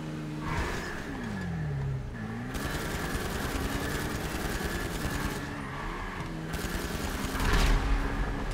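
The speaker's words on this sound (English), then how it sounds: "they're shooting their little rockets" Video game combat with bursts of rocket and gunfire fire in rapid volleys, alongside whining vehicle engine sweeps and a heavy blast near the end, with no talking.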